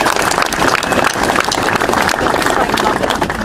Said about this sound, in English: Please give yourselves a big hand.